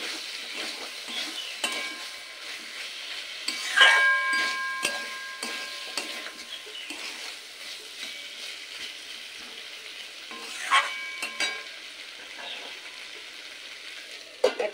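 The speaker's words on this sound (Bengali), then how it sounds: "এবার সমস্ত কিছুর সাথে মিশিয়ে নিয়ে একসাথে আবারও এটা 1 মিনিট মতন কষিয়ে নিতে হবে।" Fried pointed gourd and potatoes being sautéed in a pan, a steady sizzling fry with scraping stir strokes and occasional clinks of a utensil against the pan, close and continuous.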